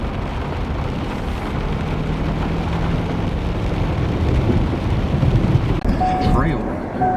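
Heavy rain pours outdoors during an elk-scouting trip, a dense steady roar with low rumbling that suggests thunder, loud and continuous throughout, with a brief tonal sound near the end.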